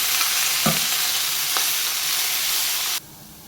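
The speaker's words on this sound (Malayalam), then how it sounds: "ഹൈ ഫ്ലെയിമിൽ വെച്ചിട്ട് ഒരു 3 മിനിറ്റ് വഴറ്റിയെടുത്താൽ മതി." Fenugreek (methi) leaves sautéing in a pan over a high flame give a steady, close sizzle and hiss, with two brief stirring scrapes, before the sound drops off sharply near the end.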